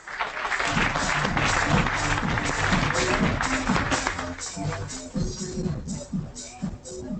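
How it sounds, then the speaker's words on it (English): Audience applause fills a conference hall, a dense, steady patter of many clapping hands held at a loud level throughout, with a tonal background running beneath it. "You carry on with the applause, please."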